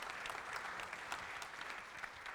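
Audience at a steelhead panel event in Santa Barbara applauds the panelists, a sustained patter of clapping that stays fairly faint and distant but steady from start to finish.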